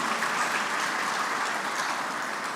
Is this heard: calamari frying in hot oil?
no